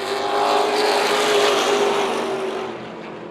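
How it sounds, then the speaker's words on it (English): Modified race cars roar around Tucson Speedway as the field goes green, a loud sustained engine drone with a steady tone that fades slightly near the end. "as the modifieds getting ready to rumble here at Tucson Speedway"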